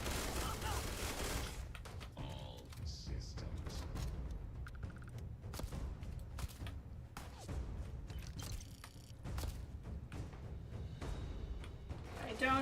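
Bursts of gunfire crackle in a Starfield firefight, repeated shots and thuds stacking up densely over a steady game backdrop with no voice in the moment.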